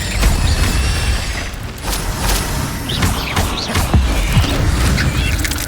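An Incendio fire spell is cast during a fight in the Hogwarts Legacy video game: loud, continuous roaring flame layered with thuds, crashes and crackles throughout, with no voices.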